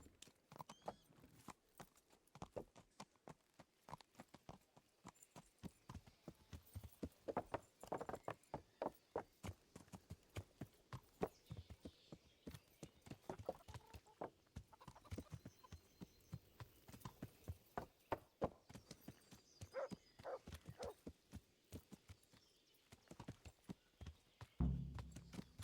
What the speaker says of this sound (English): Mount the horse and go out there.